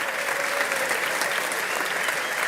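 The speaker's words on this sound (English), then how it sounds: "go ahead and give them a round of applause." Steady applause from a crowd at a 2024 technical academy graduation ceremony, dense and even, with no gaps, filling the whole stretch without speech on top.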